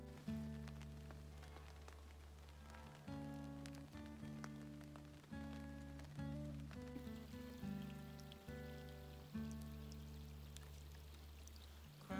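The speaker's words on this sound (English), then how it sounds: "I'm gonna get out of this rain now." Rain falls at a solo campsite on the French River where a tarp is strung over a hammock, giving a faint, steady patter with soft drips and pulsing tones underneath.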